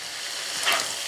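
Sauerkraut browning in a hot pan: a brief, steady, close sizzle with a small swell of crackling as it is stirred.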